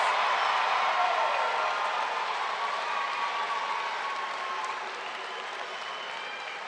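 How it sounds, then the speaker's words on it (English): Graduation audience for a high school class of 2021 applauding and cheering, a dense steady wash of clapping with scattered voices that stays loud before easing slightly toward the end. "give a huge round of applause to your child, your student, or yourself for making this amazing accomplishment"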